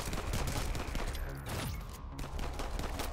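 Rapid bursts of gunfire from the City of Outlaws mobile shooter game, dense overlapping shots firing continuously at close range with no pauses.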